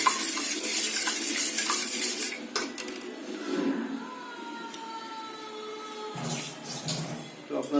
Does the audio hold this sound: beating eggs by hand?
yes